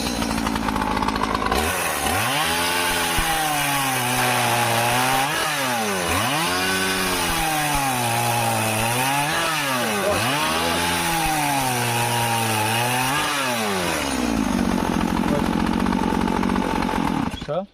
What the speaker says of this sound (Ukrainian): Давайте спробуємо штільом, заводимо його.